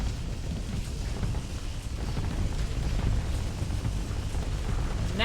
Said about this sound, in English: a round of torpedoes to the broadside finish it off